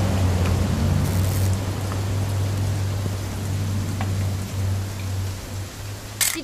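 Steady rain falls throughout in the video game What Remains of Edith Finch, a constant broadband hiss over a low steady hum, with a few brief brighter splashes.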